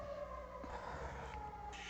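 A steady, wailing video-game siren sounds faintly in the distance, holding a continuous tone throughout.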